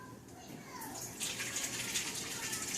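Water is poured into the reservoir of an Aerogarden Ultra LED indoor herb garden, a soft trickle that swells into a steady rushing gush partway through, with a faint voice underneath.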